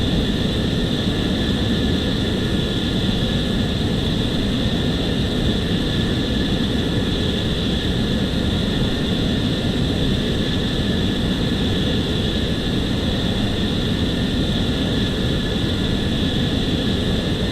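Simulated F-14 jet engine at idle in Flight Simulator X: a loud, unbroken roar with a steady whine, holding constant for the whole stretch with no talking.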